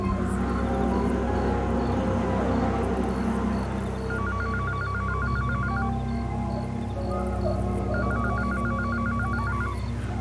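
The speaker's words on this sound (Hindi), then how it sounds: "तुम्हारा फोन बज रहा है।" A telephone rings in repeated bursts of electronic trilling over a dense, steady background in a Hindi horror drama scene, two clear ringing spells separated by a pause.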